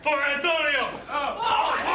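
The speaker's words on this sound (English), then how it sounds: "All the crowd saying Guerrero's name." Wrestling fans chant a wrestler's name in unison at a live event, sustained massed voices rising and falling in a chanting pattern, fairly loud and close.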